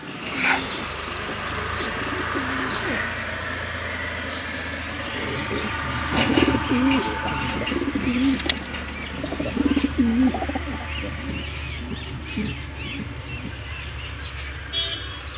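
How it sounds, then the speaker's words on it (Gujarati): Soft, low pigeon coos rise now and then over a constant background hum, with a few faint flutters and distant noises. "તો કબૂતર બહાર બેસી ગયા આપણો"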